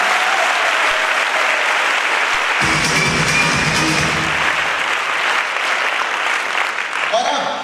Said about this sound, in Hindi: मैं चाहूंगा एक बार जोरदार ताली होनी चाहिए।